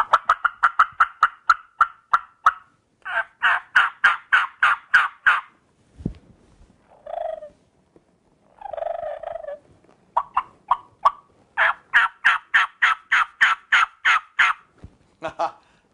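A reed turkey call imitates a gobbler, playing rapid bursts of sharp, clucking pulses in several runs separated by short pauses, loud and close, with a brief lower rasp in the middle.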